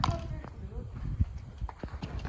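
Several horses gathered for a night ride, hooves clopping in an uneven, scattered rhythm under casual talk and background bustle.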